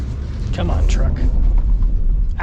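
A Ford Super Duty pickup with a 6.8L or 7.3L V8 bogging down in two-wheel drive gives a heavy, dense low rumble with strain and rough bursts, close and loud for a few seconds.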